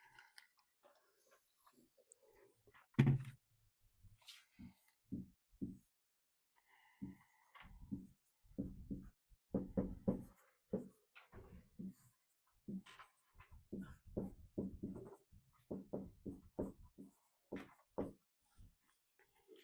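Students write on paper in a classroom during a logarithms lesson, with scattered pen strokes and scratches in short bursts, faint and close, alongside small shuffling noises.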